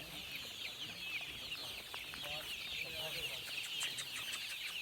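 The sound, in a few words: hens clucking on a desi hen farm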